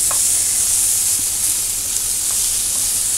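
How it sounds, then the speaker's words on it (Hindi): Chicken pieces frying in a pan for a tandoori pizza topping, giving a steady, loud, continuous sizzle and hiss with a few faint clicks from stirring, close by and without any talking. "फ्राई हो गया, सही पक गया, बोटियाँ माशाल्लाह बिल्कुल अच्छे से रोस्ट हो गई सही"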